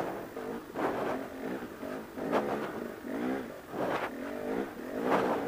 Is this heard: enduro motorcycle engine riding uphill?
yes